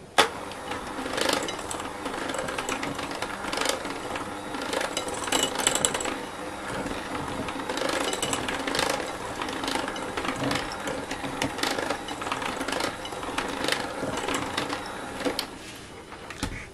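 Electric mixer stirring a mixture with orange zest at low speed, a faint continuous motor whir with a rough, slightly uneven texture, steady and close throughout.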